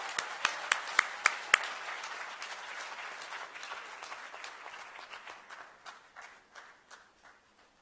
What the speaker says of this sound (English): can you once more give them a big round of applause?